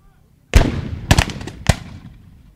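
Cannon blasts at a Civil War reenactment: three loud, sharp booms in quick succession, each echoing briefly outdoors.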